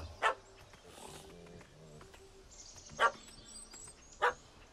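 A dog in The Witcher 3 barks at a cat that has fled up a tree: three sharp, separate barks of moderate loudness spaced over a few seconds, set against quiet game ambience and faint music.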